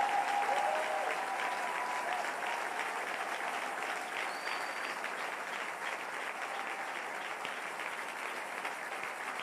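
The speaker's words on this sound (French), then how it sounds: "Est-ce qu'on peut acclamer pour nos forces armées?" A large audience applauds for the armed forces, steady clapping spread evenly through the whole stretch, slowly easing off a little toward the end, heard from within the crowd, with a faint voice or cheer early on.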